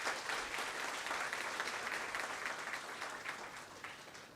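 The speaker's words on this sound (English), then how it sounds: "can we have a big round of applause for our dignitaries?" A big round of applause for dignitaries at a business school's 25th anniversary celebration, a steady wash of many hands clapping, fairly soft and distant, tapering slightly toward the end.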